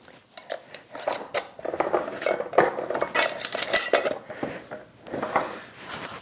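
Metal canning jar rings twisted finger-tight onto jars of meat chunks by hand, a busy run of close scraping, clinking and rattling clatter with no talk.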